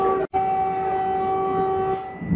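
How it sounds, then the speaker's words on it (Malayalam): A Vande Bharat Express races along at high speed, heard from the driver's cab as a steady loud rumble topped by a sustained tonal horn, with a brief dropout early on. "വളരെ വേഗതയിൽ ട്രെയിൻ ഇങ്ങനെ പാസ് ചെയ്തോണ്ടിരിക്കുക."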